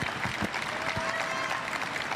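Spectators applaud at a Paralympic boccia match in Paris, a dense, steady wash of clapping from a large crowd that carries on throughout, with a commentator talking over it.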